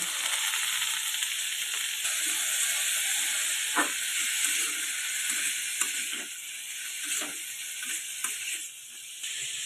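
Chopped carrots and beans sizzle steadily as they are stir-fried in a pan for chicken soup, a continuous close hiss broken by brief scraping stirs.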